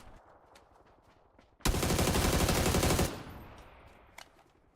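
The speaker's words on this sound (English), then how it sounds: "Have a little hip fire battles with people with SMGs" A submachine gun in PUBG sprays a single sustained burst of rapid automatic fire lasting about a second and a half, loud and close, amid quiet footsteps and ambient game sound.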